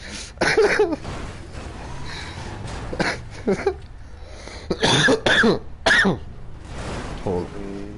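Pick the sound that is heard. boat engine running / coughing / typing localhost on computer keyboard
coughing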